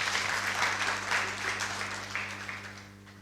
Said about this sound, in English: Hand clap for President Ruto.